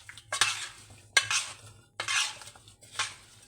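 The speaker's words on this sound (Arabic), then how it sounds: "ونقلب كله في بعضه كده بقى" A spoon scrapes and stirs through a mango pickle mixture of vinegar, sugar and oil in a bowl, four separate rhythmic stirring passes with wet clinks against the container, close and without talk.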